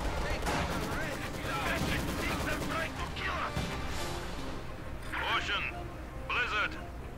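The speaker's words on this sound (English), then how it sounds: "We're going to see a rifle grenade on the Maxim" Gunfire, explosions and a rifle grenade blast from the Company of Heroes 2 strategy game, a dense steady wash of battle noise with a couple of sharp bursts near the end, under continuous talk.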